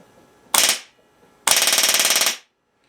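An air-powered airsoft gun fires a short burst, pauses, then lets off a longer rapid stream of evenly spaced shots, loud and close, before cutting to silence.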